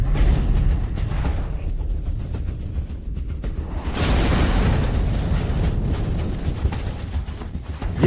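A missile flies back and explodes, a loud, dense rumbling blast with a whooshing surge that swells midway and sustains with roaring noise, no talking.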